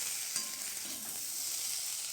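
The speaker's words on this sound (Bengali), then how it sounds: "সিদ্ধ করা আলু অল্প তেলে হলুদ নুন দিয়ে ভেজে নেব।" Boiled potatoes fry in a little oil with turmeric and salt, giving a soft, steady, continuous sizzle with a brief stir near the start and no voices.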